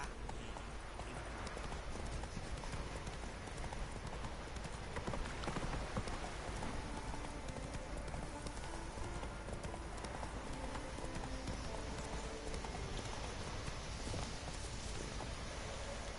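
Hooves clip-clop in a fast steady rhythm as the horse Roach gallops in The Witcher 3 video game, with a dense hiss of rain all around and faint music beneath.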